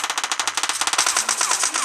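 Automatic gunfire sprays in rapid, even bursts during a PUBG Mobile Lite zombie survival match, loud, close and continuous for about two seconds with no talking.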